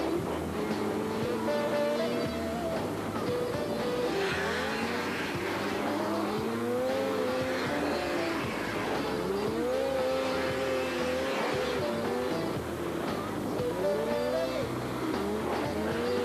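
Snowmobiles racing on a snow track at the 1993 Raid Tundra in Finland, engines whining and rising and falling in pitch as the machines accelerate, pass and fade, several overlapping at close to middle distance.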